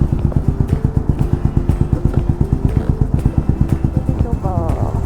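A Yamaha SR400 Final Edition single-cylinder engine with an SP Tadao POWERBOX pipe and silencer idles loudly up close in a steady, evenly spaced thump-thump beat, and a voice briefly comes in near the end.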